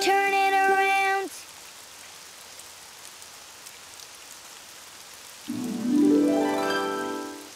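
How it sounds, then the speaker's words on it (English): Soft, steady rain falls outside in a Daniel Tiger children's video game, a faint hiss of drops running under tonal game sounds that appear briefly at the start and again near the end. "Oh, it's raining outside."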